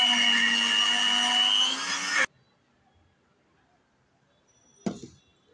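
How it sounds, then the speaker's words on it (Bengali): A blender jar whirs through mango pieces for mango payesh, a loud steady motor whine running about two seconds before cutting off abruptly, followed by silence and a short clatter near the end. "আমগুলো কেটে ব্লেন্ডার জারে ব্লেন্ড করে নেব"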